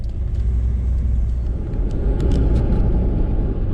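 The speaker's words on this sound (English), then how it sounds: "oldest friend's car has started" Car engine idling after starting, a loud, close, steady low rumble throughout with faint clicks and rattles on top.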